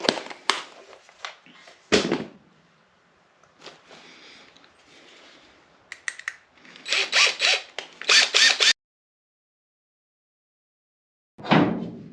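A power drill with a step bit enlarges and cleans up a hole in the bed of a Ford F350 truck, sounding in short, loud, gritty bursts broken by pauses and knocks, with one last burst after a long silence.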